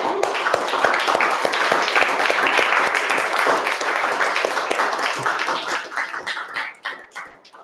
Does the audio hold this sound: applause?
yes